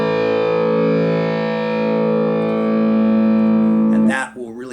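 A single sustained electric guitar note with the tone knob turned fully off, dark and muffled with a fuzzy distorted edge, rings steadily before a voice cuts in at the end.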